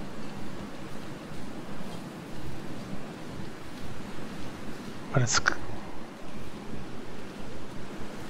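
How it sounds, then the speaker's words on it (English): Wind gusting through trees in the snowy survival game The Long Dark, a steady whooshing rush rising and falling in waves, with a brief bright chime and a short spoken comment midway. "Tree's blowing in the wind."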